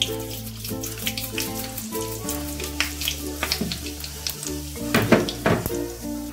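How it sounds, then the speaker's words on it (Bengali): Dry red chillies, cardamom, cinnamon, cloves and cumin seeds sizzling in hot oil in a pan, a steady crackling fry with occasional stirring clinks. "দেখো ফোড়নটা ভাজা হয়ে গেছে"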